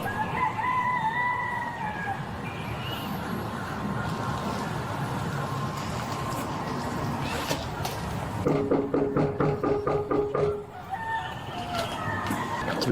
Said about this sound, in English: They got chickens and shit.